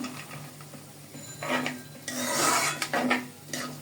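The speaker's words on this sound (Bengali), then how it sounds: "এখানে আমি মটরশুঁটিগুলো দিয়ে দিলাম" Green peas tipped into khichdi in a pot and stirred in, with rasping scrapes of a spoon against the pot in several short bursts, close and moderately loud, and no talking.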